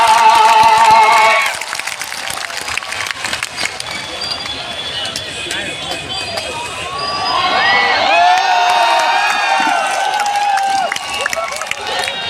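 Audience at a Bhopal poetry mushaira applauding and cheering, a loud sustained wash of clapping with shouts and whoops from a large crowd, swelling again toward the end.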